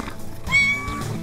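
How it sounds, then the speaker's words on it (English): A kitten gives one short, clear, high meow, close and alone after a brief pause. "The kitten."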